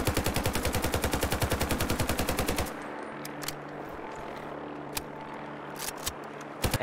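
AKM rifle from a Fallout 4 mod firing a rapid, even burst of automatic shots, loud and close for about three seconds, then sparse single clicks and thumps over a quiet game ambience.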